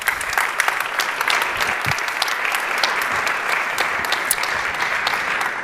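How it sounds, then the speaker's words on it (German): Warm applause from a conference audience at re:publica 2019 in Berlin, dense and sustained clapping from many hands, even and fairly loud throughout with no speech. "Herzlichen Applaus für ihn."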